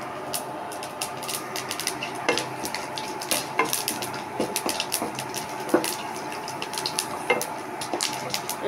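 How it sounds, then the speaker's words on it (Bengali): Panch phoron spices splutter in hot oil for tempering, a light crackling sizzle dotted with sharp pops and scattered metallic clinks of utensil on pan, close and moderately quiet. "তো আমি এখানে আগে 5 ফোড়নটাকে দিয়ে একটু ফোড়ন দিয়ে নেব।"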